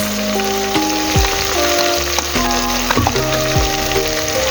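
A teaspoon of tomato paste goes into a simmering pot of coconut beans, giving a steady close sizzle and crackle, with low tonal hums and a few thuds and scrapes from stirring.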